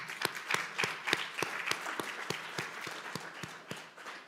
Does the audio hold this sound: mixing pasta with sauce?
no